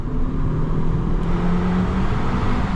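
A 2017 Fiat Tipo with a 1.4 T-Jet turbo petrol engine (120 hp) runs steadily up close, a continuous low rumbling drone with a faint whine above it and no change in pace.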